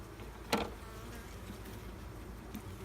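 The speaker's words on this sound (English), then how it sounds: "It's a decent amount of bees in here too." Honeybees in an open hive make a steady, close, low buzz. A few brief clicks and knocks from handling the frames stand out against it.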